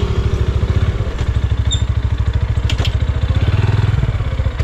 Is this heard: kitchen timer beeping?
no